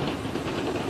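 A train rolls along the rails with a steady, loud rumble and rattle, heard without any voices.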